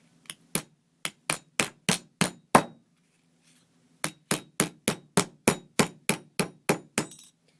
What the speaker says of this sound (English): I'm just going to hammer it down with my nylon hammer.